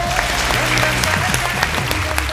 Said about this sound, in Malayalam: നല്ലൊരു കൈയടി വരട്ടെ.